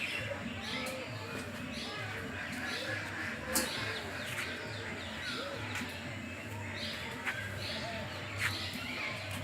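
Birds call and chirp throughout a large bird park in Islamabad, with some birds out in the open and others in cages; scattered tweets rise over a steady outdoor background and faint voices.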